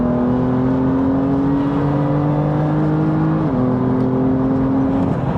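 A Toyota MR2 drifts on the Snetterton race track, its engine droning loud and close in a steady tone with one sharp step in pitch partway through, and no talking over it.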